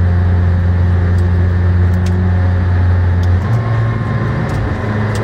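A McLaren Senna supercar engine roars loud and steady close up, a dense sustained drone that shifts pitch partway through as the car pulls hard, with no voices over it.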